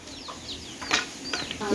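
A large hen with three chicks pecks at grass in a village yard at dusk, giving soft clucks while thin high chick peeps sound in short bursts nearby; fairly quiet and close.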